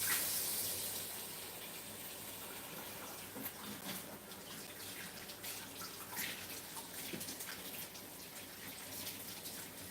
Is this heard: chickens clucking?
no